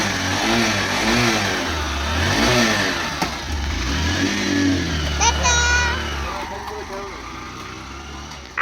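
A car engine revs and pulls away after a morning school drop-off, the mid-pitched drone rising and falling as it drives off, close by, with a voice speaking over it.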